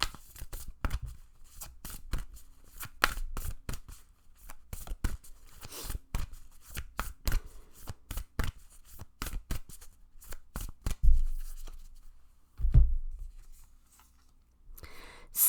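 White Light Oracle cards are shuffled by hand in a close, continuous run of crisp riffling flicks and slaps, with a couple of heavier thumps near the end as cards are drawn; no voice is heard.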